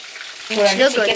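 Chicken pieces shallow-fry in a pan with a soft sizzle, and a voice talks over it partway through the brief moment.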